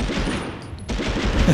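Rapid gunfire in Medal of Honor on the original PlayStation, a dense volley of shots that briefly drops out and then resumes at steady loudness.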